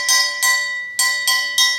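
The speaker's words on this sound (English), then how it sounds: "So we start off with the train bell" A foley train bell for a live radio play rings in four clear metallic strikes, each bright tone decaying before the next, close and alone with no talking.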